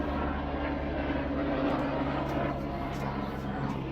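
A helicopter's steady, loud engine drone as it passes overhead, rumbling continuously with no pauses.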